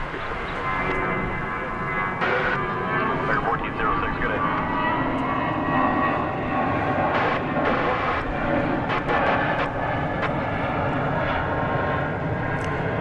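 A UPS cargo jet bound for the UPS Worldport in Louisville roars at DFW Airport at night. The engine noise is loud and sustained, with faint voices in the background.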